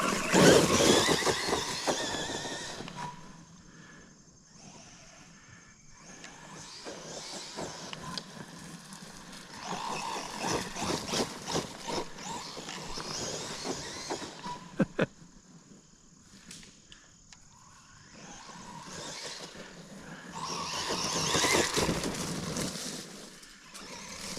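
An ARRMA Quake RC car driven at 75% throttle produces a whining electric motor that surges and fades as it passes, with tire squeal and rattling bursts, moderately loud and heard at varying distance.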